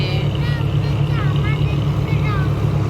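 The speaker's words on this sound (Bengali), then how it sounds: "এই যে আমাদের লঞ্চ ছেড়ে দিয়েছে" A passenger launch pulls away with its engine droning steadily and deeply the whole time, while faint voices drift over the hum.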